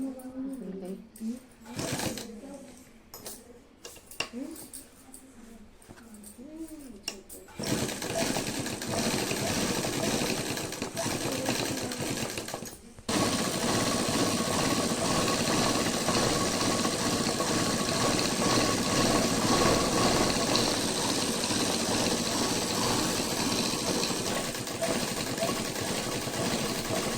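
A sewing machine stitches a shirt collar in a boutique, starting with short bursts, then running in a long steady whirring rattle close by, with someone talking at the start.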